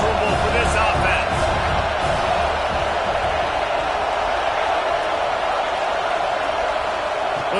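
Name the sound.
stadium crowd noise in College Football 26 video game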